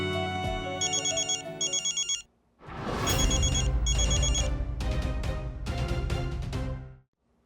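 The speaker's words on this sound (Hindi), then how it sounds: "देव बेटा, माफ करना इतनी रात को फोन कर रहा हूँ।" A phone rings with an incoming late-night call, its electronic ringtone playing loud and close in repeated bursts, pausing briefly, then continuing before cutting off.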